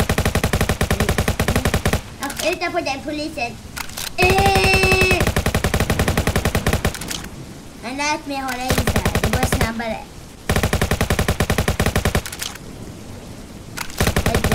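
Rapid automatic gunfire from a Roblox shooter game rattles in loud, dense bursts across the whole stretch, with people talking over and between the volleys.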